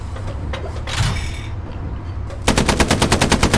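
Tank coaxial machine gun firing in the Hell Let Loose video game: a rapid, loud burst of evenly spaced shots that starts abruptly after a stretch of engine rumble and scattered background noise.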